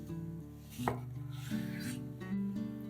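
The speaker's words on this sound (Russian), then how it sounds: "Соленую скумбрию также нарезаем порционными кусочками." A knife cuts salted mackerel into portion-sized pieces on a board, giving soft repeated chopping taps close by with a sharper knock near the middle, set over a steady low hum.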